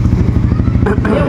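A parked, nearly new motorcycle idles close by with a loud, pulsing engine rumble, while people talk over it.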